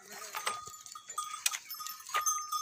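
Goats at a goat farm in Ajmer, Sirohi does, bleating in short, faint calls scattered through the moment, with a few clanks and rustles between them in a quiet setting.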